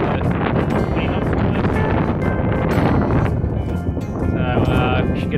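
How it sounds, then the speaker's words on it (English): Wind gusting across an outback airstrip beside a windsock, roaring steadily into the microphone as broadband buffeting that runs loud and continuous throughout, with some speech-like sound mixed in. "Wind's picking up, windy"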